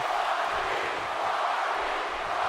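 Crowd noise from a WWE 2K18 wrestling match at WrestleMania, a steady broadband roar of fans getting behind The Rock, continuous and fairly loud throughout with no clear breaks.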